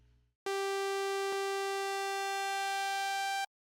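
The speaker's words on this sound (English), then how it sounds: "the first thing I'm going to do is open up oscillator number 2 here" Arturia Mini V synthesizer playing a steady sustained tone with a second oscillator added to the first, a rich buzzy harmonic drone held for about three seconds with a brief click midway, starting and stopping abruptly.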